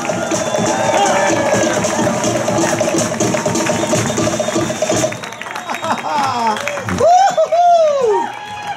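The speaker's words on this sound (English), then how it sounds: "How about another round of applause, ladies and gentlemen?" Audience applause fills the opening five seconds at an outdoor yacht club luau on Waikiki, a dense steady wash of many hands that cuts off, followed by an emcee's voice and lively background sounds.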